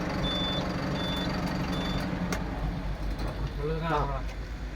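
Reversing beeps from a tourist bus backing into a ground, a steady series of evenly spaced electronic tones over heavy engine rumble, with a voice speaking near the end.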